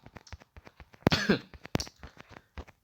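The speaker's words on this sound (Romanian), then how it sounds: "De tușit încă mai tușesc." A person coughs in two sharp, harsh bursts amid a run of quieter clicks and taps, close to the microphone, with no speech.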